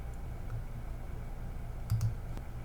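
A computer mouse clicks a few times in quick succession, faint and close against a quiet room hum, with a couple of sharp clicks near the end.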